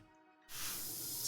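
In Shadows Over Loathing, a chemical spray hits termites on a wooden support beam in a mine. After a moment of near silence, one sharp, steady pressurized hiss bursts in and carries on, loud and close.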